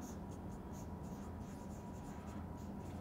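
Handwriting on paper while working through a centrifugal compressor problem: faint, steady scratching and short pen strokes repeat close to the microphone over a quiet hiss, with no talking.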